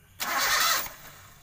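A Toyota Kijang Grand with a 5K/7K engine and abnormal idle speed is cranked by its starter in one loud, close, rushing burst of under a second. A quieter engine rumble lingers afterward.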